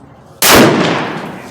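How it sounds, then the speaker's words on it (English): A single loud rifle shot from a TC Compass or Savage Axis at a shooting range, a sharp close crack with a long echoing tail fading away. "I'm going to try 3 shot with the 100 SST on the right upper target without any adjustment"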